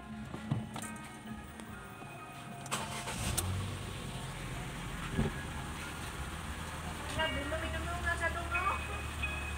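A Ford EcoSport with about 72,763 km on it starts up, with a few knocks and clicks before the engine turns over, then settles into a steady idle rumble with a faint voice underneath.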